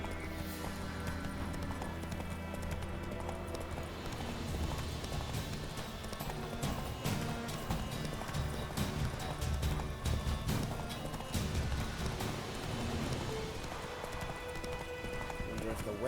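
Geralt's horse Roach gallops in The Witcher 3, hooves clopping in a fast, steady rhythm across the whole stretch, close and prominent over layered game ambience.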